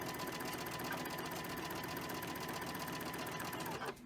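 A sewing machine stitches quilt strips together in a rapid, even mechanical chatter that runs continuously and close up, then stops abruptly at the end.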